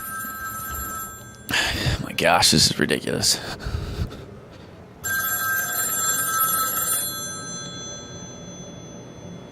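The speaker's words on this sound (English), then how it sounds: "You know, you can hear my phone ring right now." A telephone bell rings repeatedly in steady bursts through most of the stretch, audible under a person's excited talking and continuing once the voice falls silent.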